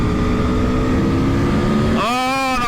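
A 2021 Aprilia Tuono V4 1100 motorcycle on a bumpy, twisty road in user mode with engine map 1 holds a steady, loud engine drone, then revs sharply upward as it accelerates near the end.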